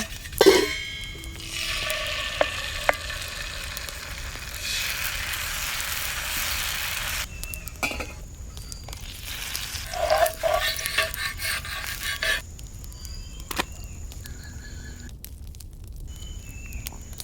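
Masala wheat dosa frying on an oiled pan, a steady close sizzle that swells and fades over several seconds, with occasional light scraping or stirring clicks and no talking.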